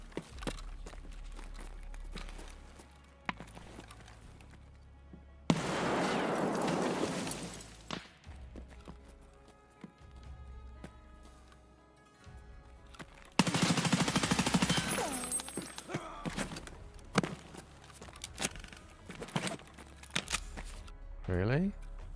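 Gunfire and a grenade blast ring out in the video game Gray Zone Warfare: sharp scattered shots, two long loud blasts, and clicking mechanical sounds, with people talking in between.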